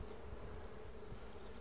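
Honey bees crawling over a drone trapping comb pulled from a hive, kept for mechanical Varroa mite control, give a steady, close, dense buzzing hum that holds evenly throughout without pauses or voices.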